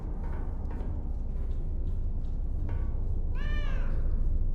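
A house cat meows once near the end, a clear drawn-out call rising over a steady low hum of room noise, close and moderately loud.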